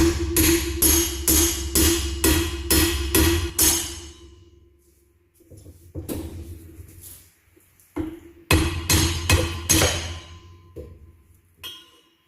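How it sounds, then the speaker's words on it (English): Rapid bursts of sharp metallic taps from a small hammer on a driveshaft bearing of a 1971 Chevy truck, struck in quick runs of six or seven, with pauses and scattered softer knocks between. "I got a littler hammer."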